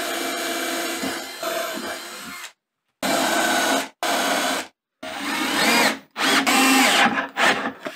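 A power drill bores through wood along a marked line on a router-table jig, coming in loud close bursts of whining, grinding drilling separated by short silent pauses.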